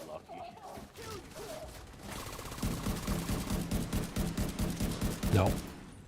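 Rapid video-game gunfire aimed at an enemy sniper: a few quiet seconds, then loud, continuous bursts of automatic fire rattling on for several seconds.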